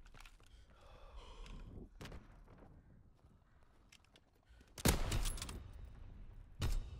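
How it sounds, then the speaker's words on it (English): Gunfire in the video game Call of Duty WW2 comes as two loud sharp bursts late in the clip, after a quieter stretch of faint movement and breathing-like noises. "Why is he shooting at me when there's a guy on the ground shooting at him?"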